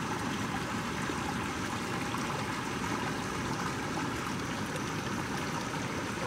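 Heavy rain drives a steady, full rush of flowing water near a grassy bank at night, a continuous broadband wash of running and gurgling water with no breaks and no talk over it.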